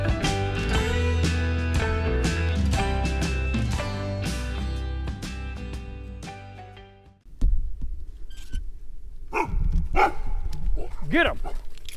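A dog barks and whimpers outdoors near a maple sap line setup, its sharp calls coming in a quick close cluster after a stretch of loud background noise.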